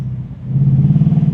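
A 2025 Ford Mustang GT in sport mode, its exhaust settling into a deep, loud idle burble that swells and pulses steadily, heard up close with no talking.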